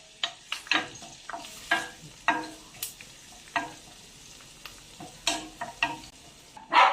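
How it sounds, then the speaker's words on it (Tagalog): Garlic sizzling and being stirred in a hot pan while cooking lechon sisig, with repeated scraping spatula strokes over a steady frying hiss, close and fairly loud with no talking. "Bawang lang po muna ipanggigisa natin."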